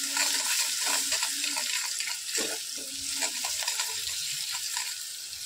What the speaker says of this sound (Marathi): आपण त्यामध्ये टाकणार आहोत हळद 1 टीस्पून, चांगले असे मिक्स करून घ्यायची आहे